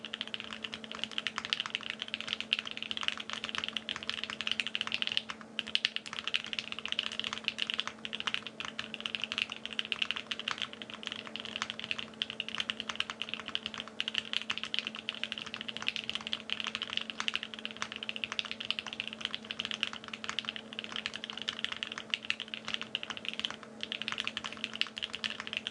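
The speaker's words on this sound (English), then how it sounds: "Let's do a typing test." Steady, rapid typing on a Think 6.5 V2 mechanical keyboard with Alpaca switches, continuous clicking keystrokes close up and fairly even in pace, with no voices.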